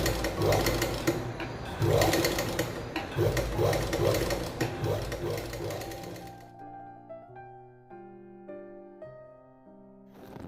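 A sewing machine stitches fabric in a steady, loud mechanical whir with rhythmic pulses for about six seconds, then stops and gives way to soft musical tones.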